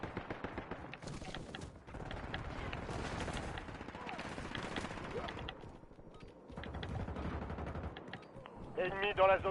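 Gunfire in the video game Warzone: dense bursts of shooting and explosive thuds fill the whole stretch, loud and continuous with brief lulls, under game sounds.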